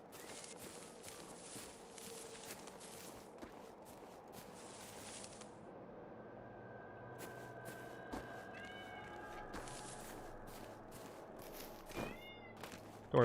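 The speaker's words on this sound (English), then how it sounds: "Don't worry about my cat. He's not hungry." A pet cat gives a few faint meows amid quiet room noise and soft footsteps, with gameplay sounds from Generation Zero in the background.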